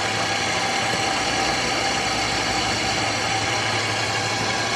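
A three-head paper drill press boring through 1/8 inch PVC gives a steady, loud mechanical whir and grind that holds unbroken throughout, with no voices.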